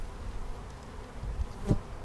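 A low, dense buzz of many honey bees swarms close by as a package of bees is shaken into a hive box, with a soft thump partway through.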